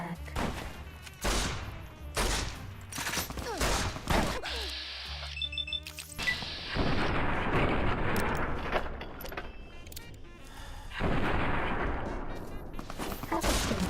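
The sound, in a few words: gunfire in the video game Fallout: New Vegas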